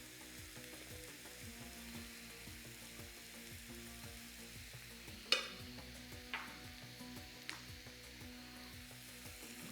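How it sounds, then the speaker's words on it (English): Ground beef with cumin, paprika and spices sizzles quietly in a pan, a steady soft frying hiss with a few sharp utensil clinks as it is stirred. "Let's stir everything to combine with the spices."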